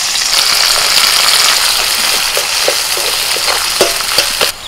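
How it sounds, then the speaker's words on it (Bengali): Chopped onion dropped into hot oil left from frying katla fish, a loud, hissing sizzle that stays dense and continuous, with faint stirring clicks toward the end. "তেলের মধ্যে দিচ্ছি পেঁয়াজ কুচি"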